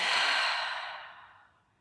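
A single long, deep exhale during a gentle yoga practice, breathy and close, fading smoothly over about two seconds with nothing else heard.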